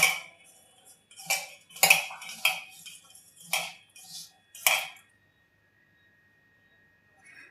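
Raw mango pieces being tossed by hand with turmeric and salt in a bowl, giving a run of close, irregular clinking and rustling bursts over about five seconds, then quiet.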